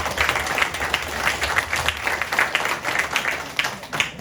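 An audience at a legislative forum in Gwangmyeong on protecting traditional markets gives a steady round of applause, dense clapping sustained for a few seconds before tapering off.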